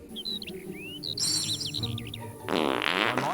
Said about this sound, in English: farting